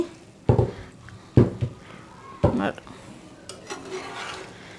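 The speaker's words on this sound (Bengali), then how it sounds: "এবার আমি ঢাকনাটা উঠিয়ে দেখি" Lid lifted off a pan of egg and bread pizza after five minutes of covered cooking, with a few sharp metallic clanks and scrapes followed by faint sizzling.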